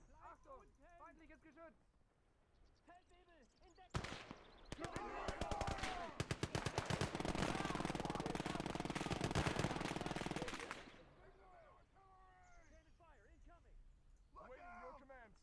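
Sustained rapid machine gun fire rattles loudly for several seconds in a WWII real-time strategy game, set between stretches of someone talking over quieter game ambience.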